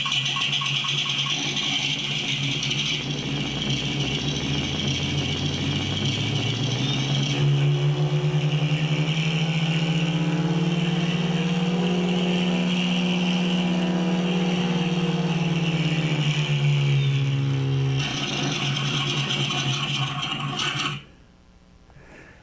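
A simulated engine sound from an inexpensive RC model sound system idles with a buzzy rattle, revs up into a smooth rising drone, winds back down, then cuts off abruptly.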